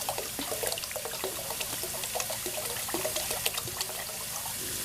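Water poured from small bottles into a pot, a steady close splashing and trickling stream that runs unbroken without any talk.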